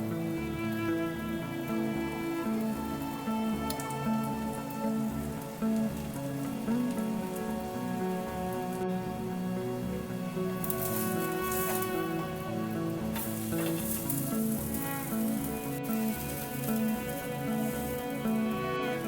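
Oil sizzling steadily in a pan as a thalipeeth flatbread fries, a continuous soft crackle and hiss with no pauses, fairly quiet and close, alone without talk.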